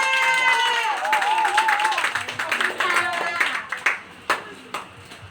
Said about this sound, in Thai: ขอเสียงปรบมือให้เจ้าบ่าวด้วยค่ะ